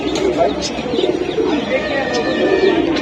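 A pair of pigeons coo in soft, low repeated calls close by, mixed with other bird chirps and heard under someone talking.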